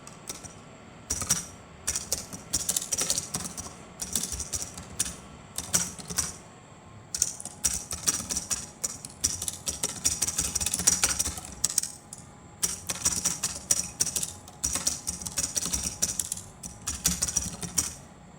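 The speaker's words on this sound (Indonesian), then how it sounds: "Kita lanjut ngetik lagi." Rapid clattering keystrokes on a computer keyboard come in bursts with short pauses, typing a document in Microsoft Word during a practical exam; the keys sound close and fairly loud, with no one talking.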